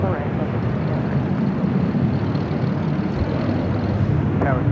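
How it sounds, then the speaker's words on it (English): Steady, loud jet engine roar from a Boeing 787-10 Dreamliner airliner at LAX, a constant broadband rumble throughout with faint radio chatter in the background. "That was United Airlines flight 923, the flight heading to London Heathrow in the 787-10 Dreamliner."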